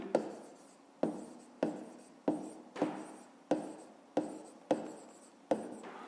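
A math solution for a fifth-grade exercise is written out in about nine brisk, evenly spaced strokes that scratch sharply and fade, heard up close with no talking.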